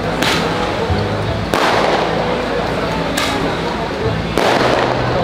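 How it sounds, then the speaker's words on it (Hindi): Fireworks burst outside a restaurant buffet, loud broadband crackling explosions at about one-and-a-half second intervals over a continuous roar, with people talking. "ओ भाई फायर वर्क्स हो रहे हैं।"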